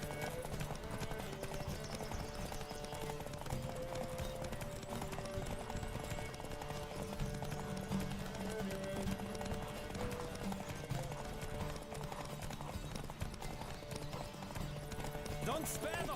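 Horse galloping during a race in The Witcher 3: Wild Hunt, a steady clip-clop of hooves running throughout under game music and a talking voice.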